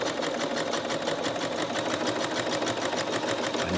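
Sewing machine stitching straight over a seam edge, a steady, fast, close mechanical chatter running continuously without pause.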